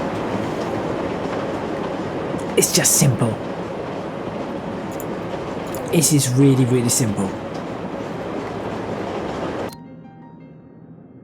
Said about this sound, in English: There comes another train.